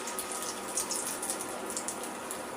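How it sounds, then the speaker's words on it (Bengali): Lentil fritters sizzle in medium-hot frying oil, a dense, even crackling hiss with fine spitting pops that holds steady and close throughout, with no voices. "এবার বড়াগুলো দিয়ে দেব।"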